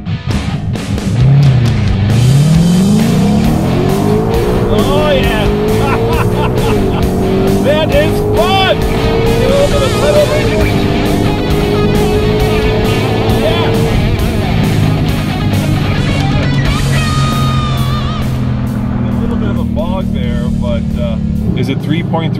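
A Ford Shelby Mustang GT500 roars hard through a drag race launch, its engine pitch climbing and holding as it accelerates, loud and close for the whole run, with speech-like sounds picked up amid the noise.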